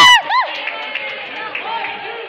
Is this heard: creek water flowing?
no